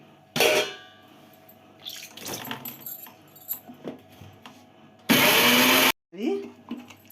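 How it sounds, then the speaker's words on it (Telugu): A mixer grinder loaded with raw mango, moong dal, turmeric, salt and green chillies whirs in two short, loud bursts, with jar rattles and handling clatter between them. "మిక్సీ పట్టుకోవాలి"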